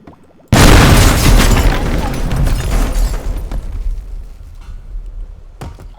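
In the game Teardown, lava explodes in a single loud, sudden boom that rumbles and slowly fades over several seconds, followed by a brief sharp crack near the end.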